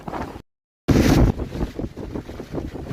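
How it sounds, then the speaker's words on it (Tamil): Strong wind buffets the microphone on the summit of Velliangiri mountain, loud gusty rumbling in bursts with a short dropout of complete silence near the start. "ரொம்ப காற்று"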